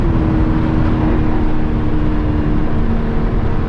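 A 2021 BMW M3 Competition engine drones steadily and loudly from inside the cabin on a cool-down lap at the track, holding a constant hum with road and wind roar, with no speech.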